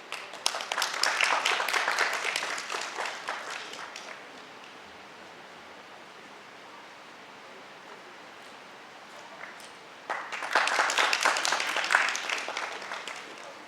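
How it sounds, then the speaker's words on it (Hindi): Audience applause at the lamp-lighting opening of the Byas Social Welfare Society's three-day programme in Bhopal: a dense burst of clapping for about four seconds, then quiet room tone, then a second strong round of applause near the end. "आप सभी की तालियां बज जाएं तो और अधिक ऊर्जा मिलेगी हम सभी को"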